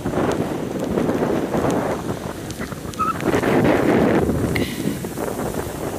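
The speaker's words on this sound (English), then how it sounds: "This is pretty windy." Strong gusty wind buffets the microphone on the New Jersey coast during a storm, with a continuous roaring rumble, faint surf-like wash and brief higher chirps behind it.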